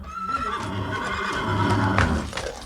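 A horse neighs loudly in a long, shaky whinny, with some rustling and faint hoof-like knocks around it.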